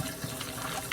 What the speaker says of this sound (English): pour your chicken in the sink